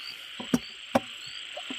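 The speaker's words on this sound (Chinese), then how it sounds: "还有只小青蛙这里" A small frog croaking at night in countryside wetland, with a few short, sharp croaks standing out above a constant high chirring of insects.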